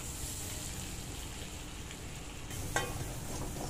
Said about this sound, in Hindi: अब इसको हम अच्छी तरह से भून लेंगे कि उसका कच्चापन आटे का सब निकल जाए।